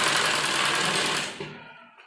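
Sewing machine stitching a blouse, running steadily and loud for over a second before slowing and stopping, leaving near silence at the end.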